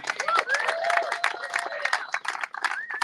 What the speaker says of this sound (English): round of applause for Pete